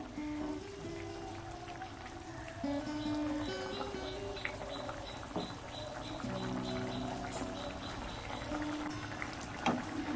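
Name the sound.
tangra fish curry with drumstick boiling in pan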